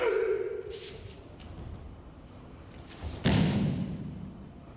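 A Kodokan Goshin Jutsu demonstration, with a partner thrown forward to the left onto the mat, ends in one heavy, close thud after a quiet stretch of light shuffling.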